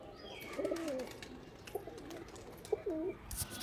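Pigeons on a rooftop loft give a few soft, low cooing calls in short spaced bursts, fairly faint over steady background hiss, with no talking.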